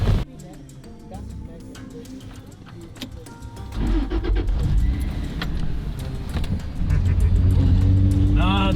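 A car engine starts and the vehicle drives back toward the trailer on a wildlife capture outing, its rumble swelling and holding steady, with people talking inside over the motor.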